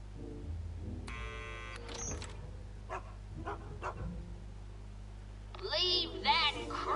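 Dog barking in the Back to the Future video game, a few sharp barks and yips among game dialogue voices, with a louder burst of barking near the end.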